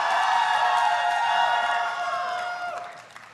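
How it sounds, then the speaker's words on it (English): Students at a health sciences university white coat ceremony clapping and cheering, a dense steady crowd roar with whoops that fades toward the end. "Clap, cheer, I want to hear it."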